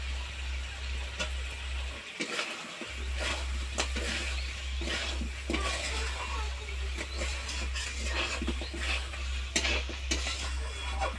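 Fried potatoes tipped into a chicken curry and stirred through in a pan, giving steady scraping and stirring with a soft sizzle and clinks of utensil on metal, close and continuous.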